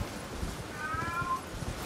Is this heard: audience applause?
no